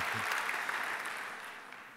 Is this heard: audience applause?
yes